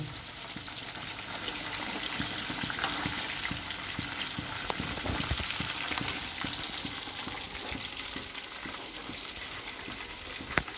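Food sizzles steadily in hot oil for several seconds, a dense continuous crackle with occasional louder pops and the clink of a utensil turning the pieces, no talking.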